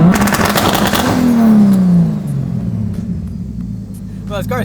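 A car engine revs up hard and then eases off, loud and close, with a rising whine over a deep rumble inside the cabin while people talk over it.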